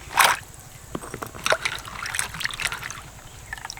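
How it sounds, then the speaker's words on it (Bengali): Fresh chillies being rinsed by hand under a running kitchen tap, with a steady trickle and irregular splashes and drips, close and moderately loud, no talking. "লঙ্কাগুলো চিড়ে নেব তবে তার আগে আমি ভালো করে ধুয়ে নিচ্ছি"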